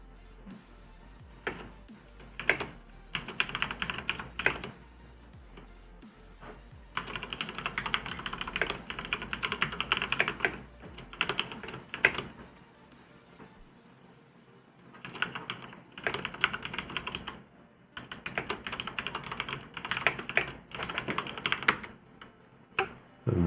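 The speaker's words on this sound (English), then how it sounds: "So we have a tank list. It's being typed out." Rapid computer keyboard typing comes in several bursts of clicking keystrokes, close and fairly clear, separated by short pauses, with a low steady hum beneath during an EverQuest raid.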